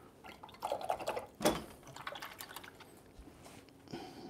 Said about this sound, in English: Now I want to just wash this brush so as I can mix that paint up.